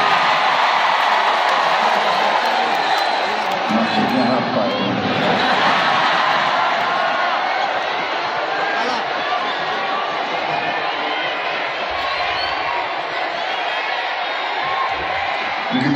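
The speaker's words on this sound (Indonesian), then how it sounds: "Tepuk tangannya paling keras saudara." A large stadium crowd at a national solidarity declaration rally in Jakarta claps and cheers loudly in a dense, sustained roar, with voices audible through it.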